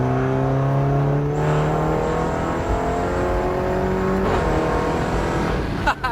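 A race car engine roars under acceleration, near and loud, its pitch climbing steadily through the gears with brief shift breaks, one around four seconds in and another near the end.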